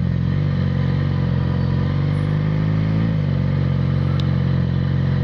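A Yamaha XJ6 motorcycle cruising along a street, its engine droning steadily and loudly close up with a slight rise and dip in pitch and wind rush throughout.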